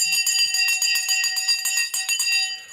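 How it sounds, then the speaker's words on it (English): A bell is rung rapidly and loudly to close a show, about a dozen bright metallic strikes in quick, even succession, each ringing on over the next. "I'm going to ring the bell"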